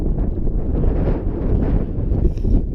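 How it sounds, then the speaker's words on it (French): Strong wind buffeting the microphone on a narrow mountain ridge near Grenoble in cold weather, a continuous loud rumbling roar that gusts and swells throughout, with no talk. "Il y a du vent."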